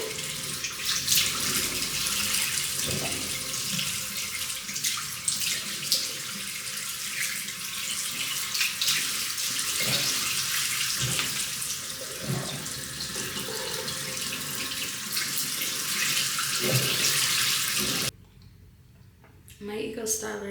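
Water runs steadily from a tap to wet hair, a continuous close splashing rush that lasts most of the time before cutting off near the end, with a voice speaking over it.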